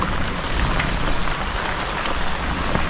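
Heavy rain pours steadily outdoors during a fishing trip, a dense continuous hiss of drops on surfaces filling the whole stretch with no break.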